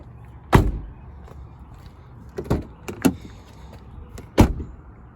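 Car door test on a Nissan: several solid thunks of a car door closing, at about 0.5, 2.5, 3.1 and 4.4 seconds, each loud and close and standing alone without talk.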